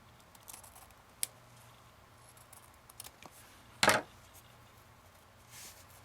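Scissors snip through paper while trimming an envelope for a Christmas card-making project, giving one loud close crunching cut after a few faint small clicks and rustles, with no talking.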